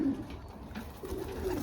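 Young racing pigeons coo softly outdoors, with low, throaty warbling calls rising twice over faint background noise.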